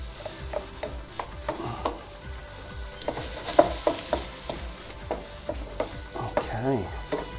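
Onions and spices frying in a pan, stirred and scraped constantly with a busy sizzle and frequent clacks of the utensil against the pan, close and fairly loud.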